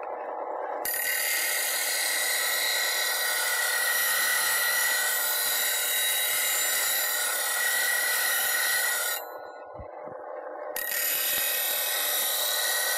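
A bench grinder sharpens and reshapes a woodturning gouge held in a Wolverine jig, producing a loud, steady, close grinding rasp that runs almost without a break, briefly easing off once before resuming.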